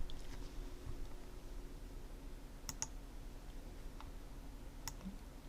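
Computer mouse clicks while editing in Lightroom, a few sharp, close, isolated ticks spread over a quiet room background with no talking.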